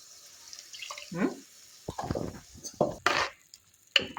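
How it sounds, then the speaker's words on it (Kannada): Water splashes into coconut paste for a sambar in a home kitchen, heard as a few short separate pours and drips with quiet gaps between them. "ಇನ್ನೊಂಚೂರು ಸ್ವಲ್ಪ ನೀರು ಬೆರೆಸ್ಕೊಳ್ಳೋಣ."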